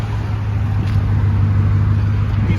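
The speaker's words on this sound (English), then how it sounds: "the exhaust sounds pretty good" A lifted 2016 Chevrolet Tahoe with 37-inch tires rumbles steadily at idle through its exhaust, a deep constant drone heard up close without pauses.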